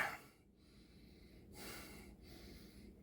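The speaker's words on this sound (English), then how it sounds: "Sniff test." Two short, close nasal sniffs at a glass of sour raspberry Brett ale, separated by a brief pause, soft breathy bursts in a quiet room.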